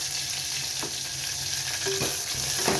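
Urad dal, dried red chillies and curry leaves sizzle and crackle steadily in hot oil, with faint stirring scrapes over a continuous frying hiss.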